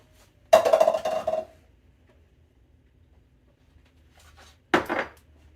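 Cornbread batter stirred in a bowl, two short bursts of spoon scraping and clinking against the bowl separated by a quiet pause, close and moderately loud with no voices.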